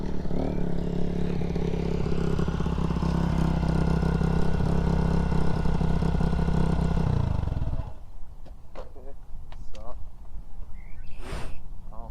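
A dirt bike engine idles with a steady, loud rumble for several seconds, then cuts off, leaving quieter clattering and voices in the background.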